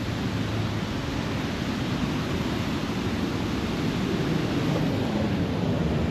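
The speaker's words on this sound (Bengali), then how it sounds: "তো জলের আওয়াজ এত দূর অবধি আসছে" Distant rushing water at a Dhanbad tourist spot, heard as a steady, broad roar that fills the whole stretch with no pauses and no voices.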